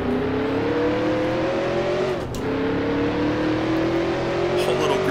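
A 1966 NASCAR Grand National stock car roars past during the Motor Trend 500 race, its engine note shifting pitch as it goes by, loud and continuous with crowd and commentary noise around it.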